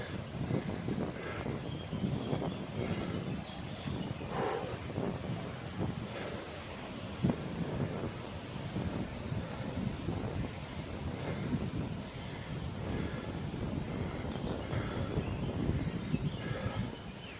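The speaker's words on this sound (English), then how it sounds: "Definitely getting the wind up here." Wind buffets the microphone on an open hilltop at the edge of woodland, producing a continuous low rumbling roar with gusty surges and no speech.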